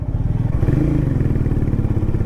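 A Harley-Davidson X440 cruiser rides through city traffic in fourth gear, its engine a close, steady, pulsing drone with a slight mechanical clatter and no voices.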